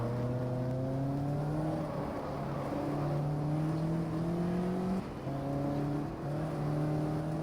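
A race car engine from the racing video game GT Legends drones steadily, its pitch climbing through gears with brief dips at each shift, loud and continuous without speech.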